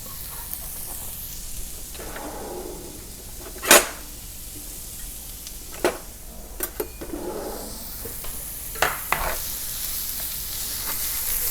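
Chanterelle mushrooms frying in a pan give a steady close sizzle and hiss, broken by a few sharp spatters and stirring clatters, with no talking.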